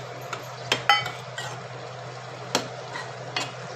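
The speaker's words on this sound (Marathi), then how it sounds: "व्यवस्थित अशी परतून घ्यायची." Cleaned prawns are stir-fried with kokum in a pan for a Malvani-style prawn chutney: a low steady sizzle runs under several clinks and scrapes of a spoon against the pan, close up, with no talk.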